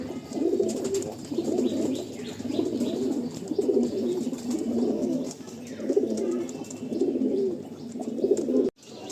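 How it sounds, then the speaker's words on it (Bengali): Pigeons coo steadily in low, throaty rolling phrases, several birds overlapping close by, with faint chirps in the background. "আরও একটা সেট দেখুন, লালসিরা প্রপার আন্ধ্রা পায়রা"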